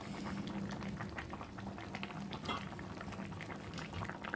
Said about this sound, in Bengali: দেখছো কত সুন্দর টকটক করে ফুটছে